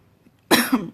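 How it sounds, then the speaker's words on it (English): A single sharp cough bursts out after a quiet moment, loud and close, with a brief second hack trailing off. "I haven't been coughing as much lately, but it still flares up on occasion"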